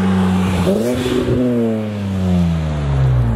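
A BMW M3 E46 with a custom exhaust revs up with a deep, throaty exhaust note, then the pitch slowly falls away as it settles back down; loud and close.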